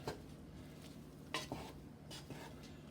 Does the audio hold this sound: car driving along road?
no